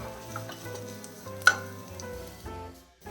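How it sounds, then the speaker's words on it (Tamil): Gentle sizzling of onions frying with cardamom pods in a pan over a medium flame, with a spoon stirring and one sharp clink against the pan midway. "சேர்த்துட்டு நல்லா கிளறிப்போம்"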